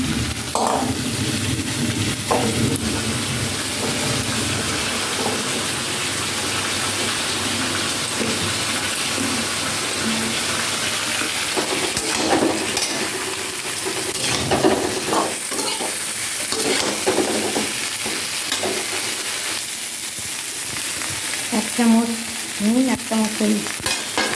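Drumstick stalks frying in a pan while being stirred, a loud, continuous sizzle with scraping and stirring noises that persist for over twenty seconds and no voices.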